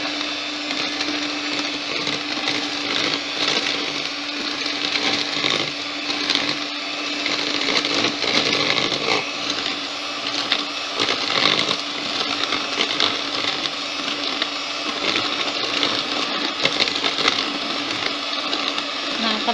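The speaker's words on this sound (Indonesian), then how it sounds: "saya matikan dulu mixernya" An electric mixer whirring through putu ayu cake batter with coconut milk, a loud, continuous buzzing drone that holds steady throughout with slight wobbles in pitch, with some speech mixed in.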